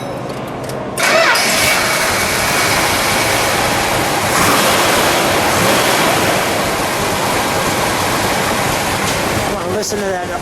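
A 1971 Plymouth Cuda with a 340 V8 cranks and catches at about one second, then settles into a loud, rumbling, dense exhaust roar that holds steady close by, with brief voices near the end.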